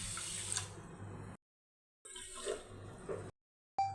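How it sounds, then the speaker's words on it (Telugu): Water is poured into a bowl over washed millet for soaking, a soft splashing flow in two short bursts separated by silence, close and fairly quiet. "వాష్ చేసుకున్న దాంట్లోకి మునిగేంత వరకు నీళ్లు పోసుకొని"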